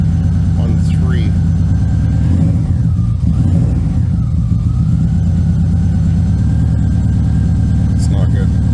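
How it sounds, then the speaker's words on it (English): A built Subaru WRX engine idles roughly after sitting four years, misfiring with an uneven, loud, close drone and irregular stumbles, someone talking briefly over it. "It's misfiring pretty bad."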